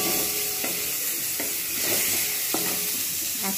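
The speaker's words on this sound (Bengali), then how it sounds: "এবার আমি এতে দিয়ে দেবো টমেটো আর কাঁচা লঙ্কা। এটাও ভালো করে এর সঙ্গে এরকমভাবে কষে নেব।" Tomatoes and green chilies stir-fried with onions in a pan: a constant loud sizzle broken by four sharp spatula scrapes against the pan, spaced about a second apart, no talking.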